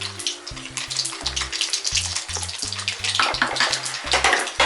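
Water boiling in a cooking pot as drained soaked rice goes in for a vegetable dum biryani, a steady bubbling and splashing over a low background hum, with no talking.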